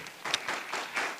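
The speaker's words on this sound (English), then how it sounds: "A hearty clap for him." A small conference audience gives a short, faint round of clapping after an energy-research talk, lasting about a second, quiet and somewhat distant, with no speech over it.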